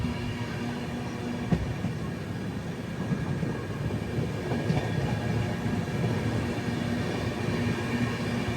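The Prasanthi Express, train no. 18464, rumbles steadily along the tracks near Vijayawada, heard from inside a carriage as a constant low roar with faint rhythmic clicks and no talk.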